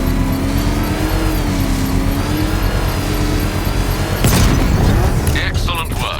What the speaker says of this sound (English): Use the power winch to trigger a controlled explosion.